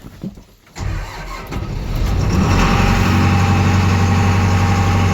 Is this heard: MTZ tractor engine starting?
yes